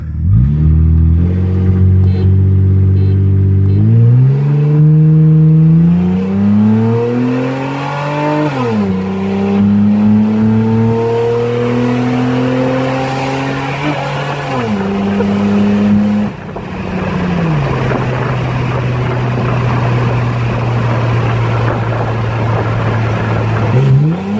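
1997 Toyota Camry XLE V6 accelerating hard after a build-up, engine winding up through repeated rising sweeps with sharp drops at each shift, then settling into a steady cruising drone, loud and close with no talking.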